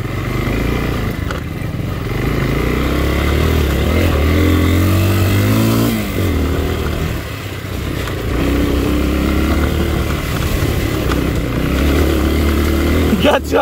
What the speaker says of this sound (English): according to Wayne, full throttle.